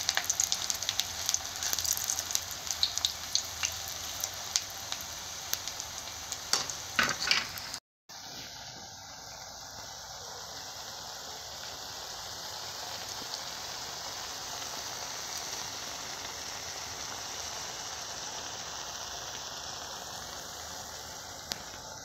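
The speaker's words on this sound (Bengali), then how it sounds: "ভালো করে ভেজে নিয়েছি, এইভাবে তুলে নেব।" Food frying in hot oil gives a steady, fairly loud sizzle throughout, with some stirring clatter in the first few seconds and a brief dropout around the eighth second.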